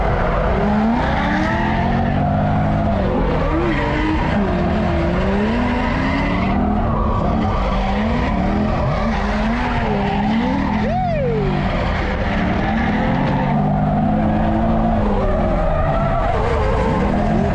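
A V8-swapped BMW E36 drifting at a Texas drift event: loud, continuous tire squeal and skidding over a roaring, revving engine, with pitch swinging as the car slides, sustained throughout.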